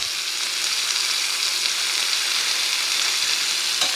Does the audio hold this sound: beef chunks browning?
yes